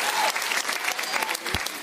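Studio audience applause on Bill Maher's late-night talk show, a dense steady wash of many hands clapping, fairly loud and continuous throughout with no talk over it.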